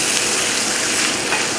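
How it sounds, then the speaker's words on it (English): Garlic and fish sautéing over a fairly high flame in a pan, giving a steady, close, loud broadband sizzle that runs unbroken throughout with no talking. "As long as you hear the sizzling, you know we're sauteing"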